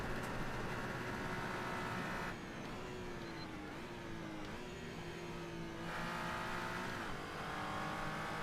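A car engine in the Assetto Corsa racing sim revs hard up to the rev limiter, sounding as a steady, loud droning whine with pitch shifts as it climbs and bounces off the limit between gear changes.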